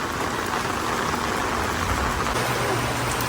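Heavy rain pours down steadily over a house with a tarp, a dense, continuous hiss of water close by with no break across the whole stretch.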